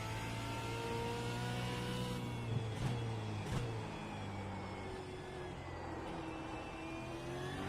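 A V8 Supercar engine in a racing video game at Sebring accelerates, a steady whining drone with gear-shift blips as the pitch drops and climbs again, continuous and even in level, with no voices.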